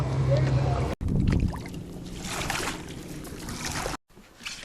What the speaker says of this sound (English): kayaking through the mangroves like the Native Americans did back in the day